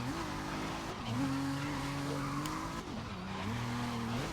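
Ford race car in a driving video game, engine revving and shifting through gears with tire skids, loud and continuous throughout, alone without talk.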